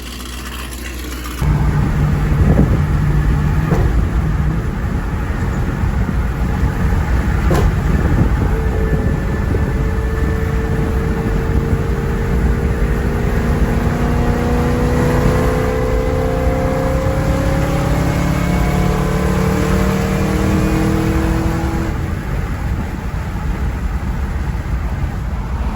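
A street car engine fires up, idles roughly while warming up, then revs in rising and falling sweeps, loud and close with no speech.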